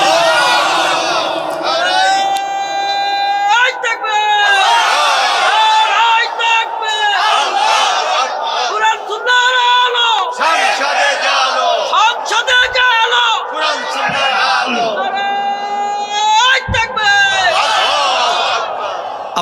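A large crowd at an outdoor Islamic religious gathering roars a loud, sustained takbir in unison, massed voices swelling and repeating in waves for the whole stretch.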